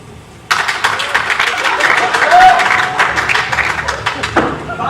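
An audience breaks into sudden applause during a Hindi stage play. The clapping starts sharply, holds as a dense patter of many hands for about four seconds, then cuts off abruptly.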